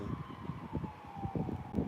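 A distant emergency vehicle siren holds a steady, slightly falling tone over low traffic and wind rumble on a street, faint and continuous with no speech.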